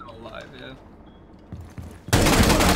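A gunshot in Rainbow Six Siege ranked play, one loud sharp burst near the end that follows quieter game sounds and soft chatter.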